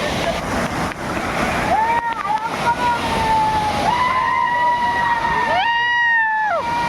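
Roar of the Savdav waterfall in Konkan, running freshly for the season, a steady broadband wash throughout, with several people shouting and talking over it and sliding tonal noises in the second half.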